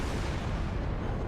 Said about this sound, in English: All my guns, armor piercing, at this range, I can't miss.